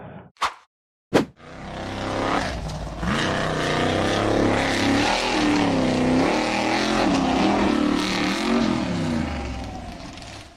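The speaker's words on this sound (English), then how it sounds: "The orange and silver buggy number 29 charged up the steep, sandy slope but lost momentum." Orange and silver number 29 off-road buggy charging up a steep sandy hill, its engine roaring loud and strained for several seconds after two short sharp thumps, pitch wavering as it loses momentum.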